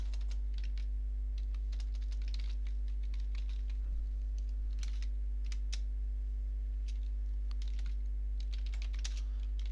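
Rapid, irregular clicking of a computer keyboard as email body text is typed, close and continuous over a steady electrical hum, with no voices.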